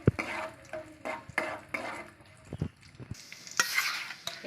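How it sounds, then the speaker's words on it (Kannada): Raisins and cashews fry in ghee, with a soft sizzle under repeated stirring scrapes and light clinks of a spoon against the pan. The hiss grows brighter and louder toward the end. "ಗೋಡಂಬಿ ಬ್ರೌನ್ ಆದ ನಂತರ ದ್ರಾಕ್ಷಿ ಹಾಕ್ಕೊಳ್ತಾ ಇದ್ದೀನಿ."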